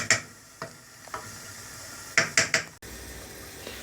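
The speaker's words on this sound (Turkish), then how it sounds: "Yavaşça suyumuzu da ekledikten sonra güzelce karıştırıyoruz." A spoon stirs orzo soup in a pot just after water has been added, making a few scraping, sloshing strokes spaced irregularly, with a quicker cluster of three near the end, close and fairly quiet.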